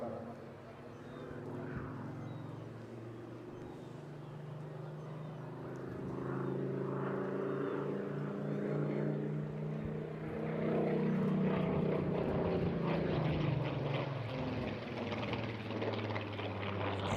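A Spitfire fighter's piston engine growls through an airshow flypast at Eastbourne, a distant drone that swells and roughens as the aircraft passes, with a commentator talking over it.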